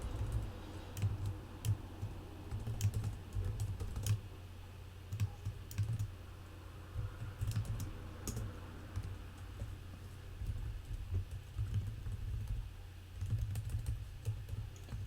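Fingers type code in Python on a computer keyboard, a quiet, steady clatter of key presses in irregular bursts with short pauses, close up, with no talk.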